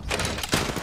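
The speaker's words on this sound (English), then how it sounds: "I'm spotted, taking fire." A quick flurry of gunshots cracks out in a video game shooter, two dense bursts packed into under a second, loud and close.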